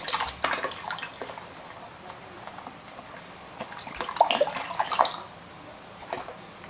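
Liquid no-rinse sanitizer is poured back into a container while brewing an IPA at home, giving splashy, trickling pours with drips, fairly close and at moderate level, alone without talk.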